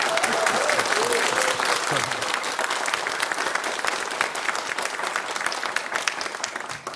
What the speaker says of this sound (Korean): 후보자들 박수로 좀 격려해 주시겠습니까?